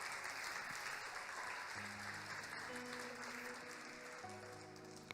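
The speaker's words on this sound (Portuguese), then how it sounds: "Você pode aplaudir a Ele" A church congregation applauds steadily at a worship service, a dense, even wash of clapping throughout with a sustained organ or keyboard chord rising underneath partway through.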